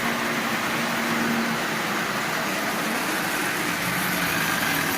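A Marx 595 double reduction toy train motor running at half power gives a steady, close mechanical hum and whir that holds evenly throughout with no talking.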